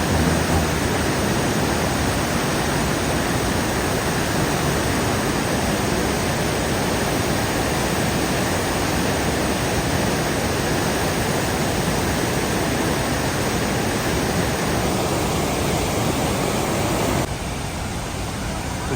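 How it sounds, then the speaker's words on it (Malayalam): A waterfall on the road to Charagiri in Kozhikode pours in a loud, continuous, unbroken roar that softens slightly near the end. "ചാരഗിരിക്ക് പോണ വഴിക്കുള്ള വെള്ളച്ചാട്ടാണ് കേട്ടോ കാണുന്നത്"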